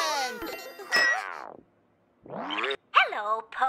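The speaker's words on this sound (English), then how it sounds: "It was Po's turn to answer the tubby phone." A cartoon toy phone in a children's television show rings with bright bell-like dings and gliding musical tones, a few close, loud bursts separated by a brief silence.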